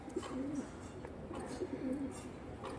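Pigeons coo softly in repeated low, rolling calls, a few close phrases over a quiet background murmur.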